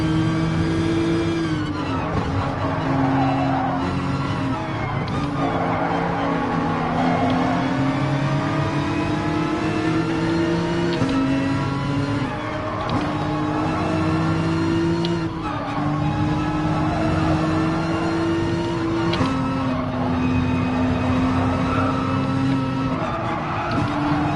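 Race cars run in a tight pack in Gran Turismo Sport, engines droning and shifting pitch continuously with tire squeal, loud and sustained throughout.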